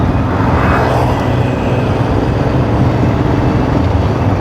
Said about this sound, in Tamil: ஆஹா, இது சரியான டிராஃபிக்காக இருக்குது